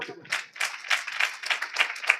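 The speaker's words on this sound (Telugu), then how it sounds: "గట్టిగా చప్పట్లు కొట్టు." A church congregation claps in a steady, even rhythm of about eight beats, moderately loud, after a brief moment of speech at the start, during a Sunday worship service.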